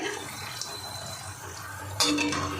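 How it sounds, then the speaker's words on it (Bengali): Fried potato sticks lifted out of hot oil with a metal strainer in a home kitchen, a steady low bubbling hiss, then a sharp metallic scrape and clatter near the end as the strainer knocks against the pan. "দেখুন এভাবে আমি এই ছাঁকনিটাই করে তুলবো, তাহলে এক্সট্রা তেলটা পড়ে যাবে।"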